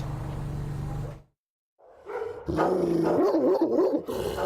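Dogs bark at the Pasadena Humane Society animal shelter, a cluster of loud, close barks and yips with some growling, following a brief silent gap after a steady noise.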